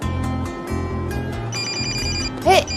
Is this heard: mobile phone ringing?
yes